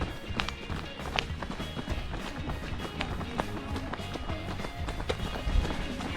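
A runner's quick, steady footfalls on a downhill stretch of the Cummins Falls marathon, close and continuous over a busy outdoor background.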